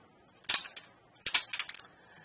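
A plastic Optimus Prime toy's button releases pop-up missile launchers with two quick clusters of sharp plastic clicks and snaps, close and fairly loud against a quiet background.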